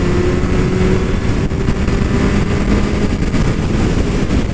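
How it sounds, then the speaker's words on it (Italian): A Kawasaki Z750 motorcycle engine roars continuously up close, its rumble rising and falling as the throttle is worked. "Vediamo se sono ancora in grado di mandare la moto."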